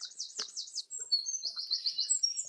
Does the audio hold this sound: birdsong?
yes